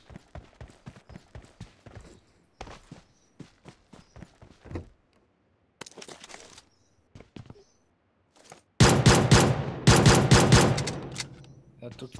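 Gunfire in the mobile battle-royale game PUBG Mobile: light, scattered clicks like footsteps give way to loud, dense bursts of rapid automatic shots near the end.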